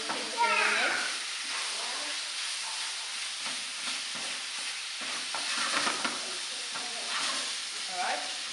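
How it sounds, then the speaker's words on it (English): Ground meat browning for a shepherd's pie in a pan on a hot stove, a continuous soft sizzle with scraping stirs at intervals, close and fairly quiet, with faint vocal sounds near the start. "If your stove is nice and hot, it doesn't take long to brown. Just keep stirring it."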